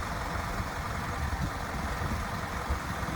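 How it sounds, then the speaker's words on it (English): A black trash and landscape dump truck idles with a low, steady engine rumble, even and continuous throughout with no voices. "Nice rumble to the engine, sounds perfect."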